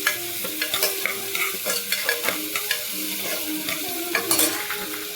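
Onions and ginger garlic paste fry in a pan while being stirred, a steady close sizzle broken by rhythmic scraping strokes of the spoon, with no talk.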